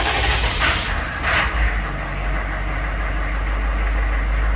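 A GM 6.5L diesel engine, suffering random stalls, restarts and settles into a steady idle, a deep continuous rumble with a brief surge of higher noise at the start before it evens out.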